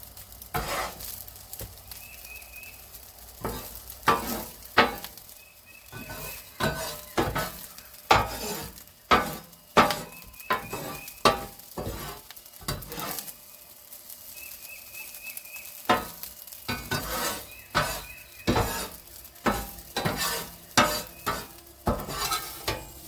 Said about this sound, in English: I'm going to take my big grill scoop here and get this all into this container.